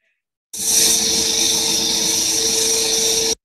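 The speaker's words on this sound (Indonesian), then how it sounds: "ini adalah gambar video salah satu pemboran." Rock drill boring into rock underground in a mine, played back from a recording: a loud, steady mechanical roar with strong hiss and a constant whine, starting abruptly and running unbroken for about three seconds before cutting off.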